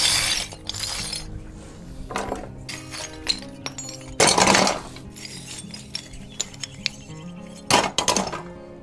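Broken roof tile shards clinking and clattering as they are dropped into a crusher, sharp bright impacts in scattered bursts, some louder crashes among lighter chinks, close by with no talk.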